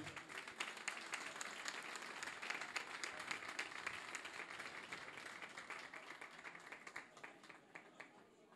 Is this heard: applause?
yes